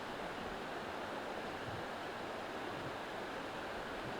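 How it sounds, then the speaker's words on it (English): Water rushes steadily through New York Creek on a misty, rainy day, a constant dense wash of flow heard close up with no voices. "Just the sound of the water."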